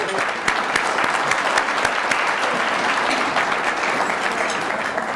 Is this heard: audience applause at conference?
yes